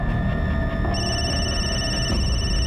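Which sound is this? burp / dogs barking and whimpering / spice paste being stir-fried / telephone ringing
telephone ringing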